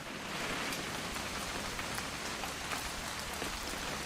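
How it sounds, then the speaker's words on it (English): Steady rain falls in What Remains of Edith Finch during a weekend hunting trip, a dense, even hiss of drops on surfaces with no voices, moderately loud and continuous. "It's gonna rain the whole weekend, isn't it?"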